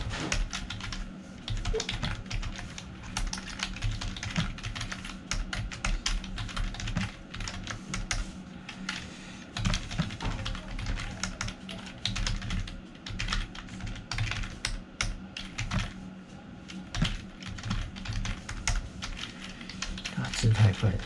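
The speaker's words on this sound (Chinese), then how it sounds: "打字太快，手跟脑部协调" Continuous fast typing on a Logitech K360r wireless keyboard, a dense stream of light plastic key clicks at close range, steady throughout with occasional brief murmurs in the background.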